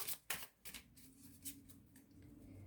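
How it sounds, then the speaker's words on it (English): Quiet tarot card shuffling: a few crisp riffles and taps in the first half, followed by softer rustling and sliding, close by with no voices. "So we are going to do one more shuffle"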